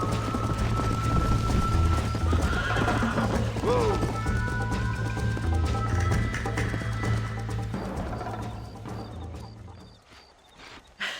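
Horse galloping with rapid, continuous hoofbeats in Red Dead Redemption 2, a steady close rumble that fades out near the end, with characters talking over it.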